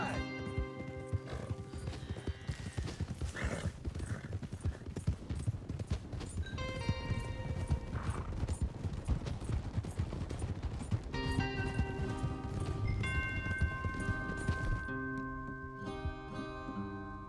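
Steady clip-clop of horse hooves at a gallop runs throughout, mixed with musical tones and occasional voices in the background, in the game Red Dead Redemption.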